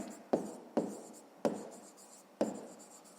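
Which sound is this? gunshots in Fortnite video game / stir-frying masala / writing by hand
writing by hand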